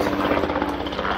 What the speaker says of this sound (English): sorry about the noise, touring helicopter.